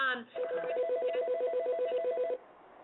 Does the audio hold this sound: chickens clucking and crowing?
no